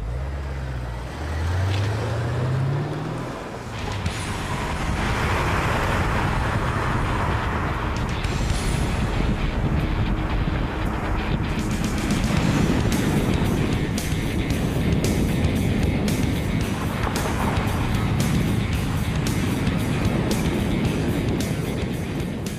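A BMW Z8 roadster drives around Los Angeles with a steady engine and road roar throughout, the sound swelling and easing as it moves, with no talk.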